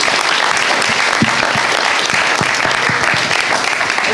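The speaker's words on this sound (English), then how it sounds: "So round of applause to all of you for making it." Loud, dense applause from a conference audience at a generative art panel, with continuous clapping holding strong and even for several seconds and a few sharper individual claps standing out.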